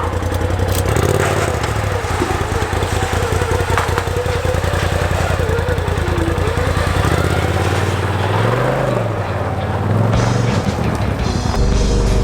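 A Polaris RZR side-by-side engine runs loud and steady throughout, with a low rumbling drone that rises and falls in pitch as the throttle changes, plus some mechanical clatter.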